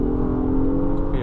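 A 2026 Acura MDX Type-S engine accelerating during a night drive, a loud steady engine drone heard from inside the cabin with a person talking over it.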